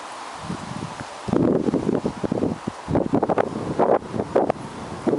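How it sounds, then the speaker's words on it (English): Wind gusting outdoors on high ground near a former colliery, rushing and buffeting against the microphone in uneven surges after a quiet opening second, loud and close with no speech. "the wind's starting to get up again as we're getting up a height a bit"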